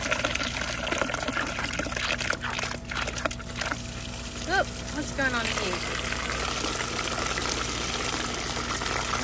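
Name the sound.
tap water filling a poultry waterer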